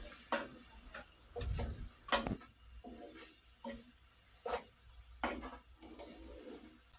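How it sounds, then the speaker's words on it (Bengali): Turmeric, coriander and cumin powder spices are stirred in a cooking pan for a Bangladeshi-style salmon dish: soft sizzling beneath a series of spatula scrapes and clinks against the pan, fairly quiet and close. "এখন একটু নেড়ে চেড়ে মিশিয়ে নিতে হবে।"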